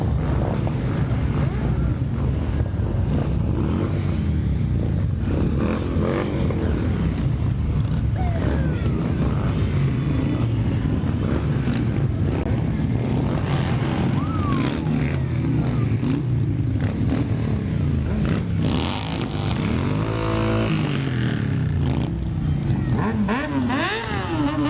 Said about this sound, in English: if you hear those engines revving, that's because next up we have ABATE of Western Maryland